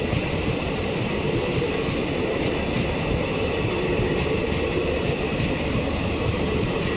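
A demo train rolls past Baraigram Junction with a continuous, loud rumble of wheels and carriages. It holds steady for the whole span with no talk over it.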